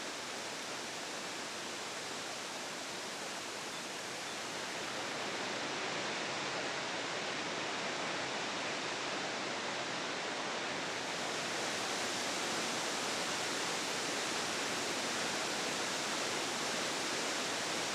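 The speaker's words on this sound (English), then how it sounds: "Today the falls drops 95 feet." A waterfall plunging 95 feet in Cedar Creek Canyon, Arkansas, roars as a steady, dense, broadband rush that holds constant for the whole stretch, with no voices.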